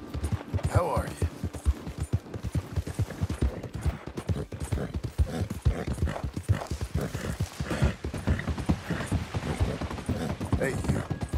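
Horse hooves in the video game Red Dead Redemption 2 clip-clop in a steady, rhythmic trot throughout, close and continuous.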